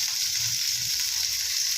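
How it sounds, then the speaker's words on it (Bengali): Fish frying in a home kitchen pan, a steady close hiss and sizzle that holds without a break from start to finish. "এই যে মাছটা ভাজছি"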